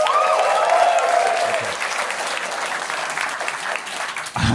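A comedy club audience applauds and cheers at a live improvised stand-up show, a dense, steady wash of clapping that starts full and gradually thins over several seconds, with a few shouts near the start.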